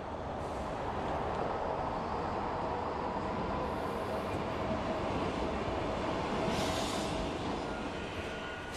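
Trains at Dresden-Neustadt railway station, a steady broad rumble of rolling rail cars with a low hum running throughout and brief brighter hissing bursts now and then.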